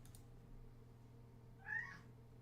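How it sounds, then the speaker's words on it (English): A single faint cat meow comes late in the clip, brief and rising, over a low steady background hum. "The cat is here."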